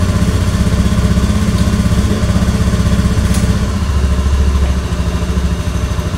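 An automatic scooter with a hard-starting, stalling fault runs at a steady idle, its engine loud and close with an even, continuous throb throughout.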